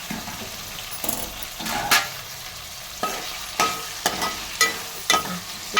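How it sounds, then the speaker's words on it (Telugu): Brinjals fry in oil in a pan for a coconut masala curry, with intermittent spatula scrapes and clanks over a light background sizzle, fairly close and with no talking. "ఒక 5 నిమిషాలు అయినాక నూనెలో మగ్గినాయనండి వంకాయలు"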